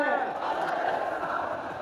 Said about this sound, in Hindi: बोलबम का नारा सुन सकते हैं कितना काफ़ी ज़्यादा भीड़ है